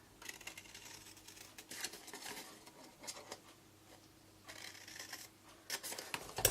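Scissors snip through paper card pieces for a wedding favour box, producing soft, close, irregular crisp cuts and paper rustling in a quiet room.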